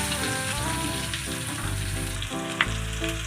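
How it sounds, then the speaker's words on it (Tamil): Drumsticks with crushed garlic sautéing in hot oil for drumstick pickle, a continuous close sizzle with light stirring scrapes and a brief clink partway through. "நல்லா எண்ணெயிலே வதக்குங்க"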